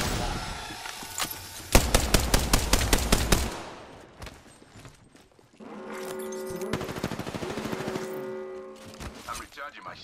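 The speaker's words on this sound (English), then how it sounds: "They're shooting at me." Rapid automatic fire from the Rampage weapon in a video game, loud close bursts of evenly spaced shots, a pause, then a second long rattling burst with a voice talking over it.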